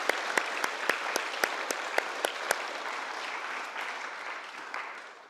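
Audience applause at a school awards night, a steady crowd clapping with sharp individual claps standing out early, then fading into a softer, more uniform patter.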